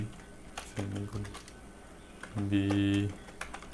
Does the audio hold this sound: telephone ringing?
no